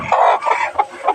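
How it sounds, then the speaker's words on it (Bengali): A broody hen clucks up close and loud, giving about four short, throaty clucks in a loose rhythm, with no other sound. "এই যে আর একটা কুচা মুরগি"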